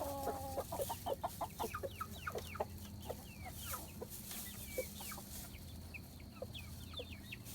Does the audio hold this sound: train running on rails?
no